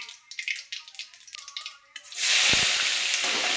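Onion and tomato added together to hot oil already popping with mustard seeds: a voice talks at first, then a loud, dense sizzle bursts in and holds steady.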